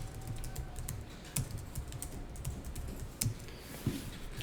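Computer keyboard typing in an accounting class, with soft key taps and a few louder strokes that may be the Enter key, close and fairly quiet.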